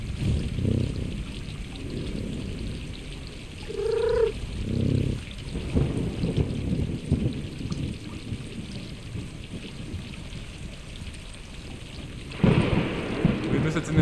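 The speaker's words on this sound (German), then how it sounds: "Jetzt in den Regen raus, oder wie?" Steady rain in the video game Stray pours with rolling thunder rumbles, a brief tonal chime partway through, and a louder burst of rain near the end.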